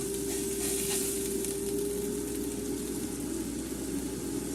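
A thin sausage patty for a breakfast bagel sandwich frying in a pan, giving a continuous even sizzle with a faint steady hum underneath and no voices.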